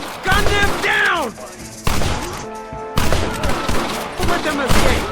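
Gunfire in the Western video game Red Dead Redemption, with dense bursts of rapid shots and sharp cracks repeating loudly throughout, mixed with shouting voices and a whistling streak early on.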